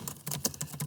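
Rapid keystrokes on a computer keyboard, a quick burst of about eight close, crisp taps in under a second.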